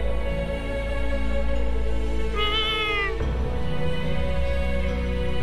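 A cat in the anime-style souls-like video game Little Witch Nobeta gives a single clear, drawn-out meow partway through, set over a steady game ambience and music bed.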